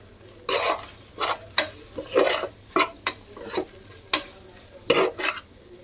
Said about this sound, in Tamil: நம்ம எடுத்து வச்சுருக்க பிரியாணி மசாலாவை இதில் போட்டு மிக்ஸ் பண்ணிடலாம்.